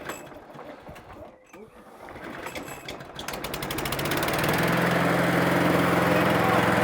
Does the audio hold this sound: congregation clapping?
no